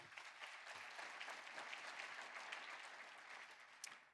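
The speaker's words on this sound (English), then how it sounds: "Please give them a round of applause." A petroleum industry conference audience applauds its sponsors with a steady, even wash of many hands clapping. It sounds faint and distant, with no voices over it.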